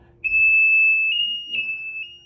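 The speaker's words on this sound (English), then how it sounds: "This is a high-level alarm" A Gizmo high-level alarm device sounds a loud, piercing continuous tone that pulses slightly in intensity, close and steady for about two seconds with faint background noise and no talking.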